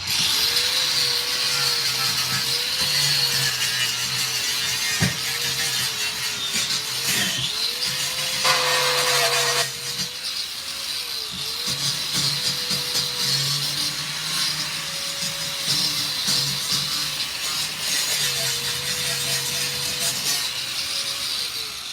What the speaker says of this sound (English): Let's get the grinder.